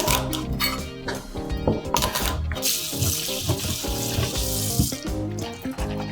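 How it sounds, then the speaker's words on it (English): Green beans are washed under a running kitchen tap, with water splashing and rattling unevenly against the beans and sink and a few clicks and knocks of handling. "Meanwhile, wash and trim the green beans."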